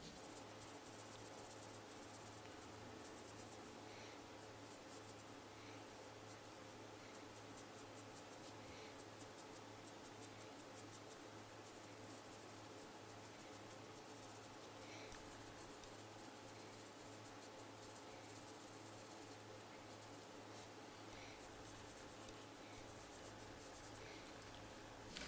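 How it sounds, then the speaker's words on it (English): Graphite pencil shaded across paper with the side of the lead, a steady soft scratchy rubbing that continues quietly and evenly throughout, close and faint with no talking. "Again, I'm using the side of the pencil."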